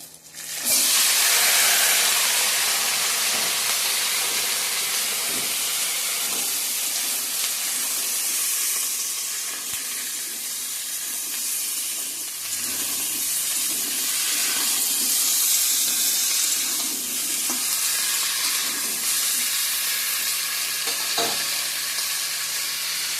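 Ginger and vegetables fry in a pan with loud, continuous sizzling and hissing that starts suddenly as they hit the hot oil, along with occasional stirring clinks, close up and with no talking.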